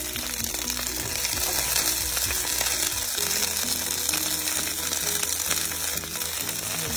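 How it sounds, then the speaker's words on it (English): Asparagus sizzles in hot oil in a pan, a dense, continuous frying crackle with the occasional clatter of stirring, steady and close throughout. "I will add my asparagus in here. Get ready for saute."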